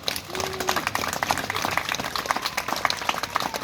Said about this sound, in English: we all just have one big round of applause now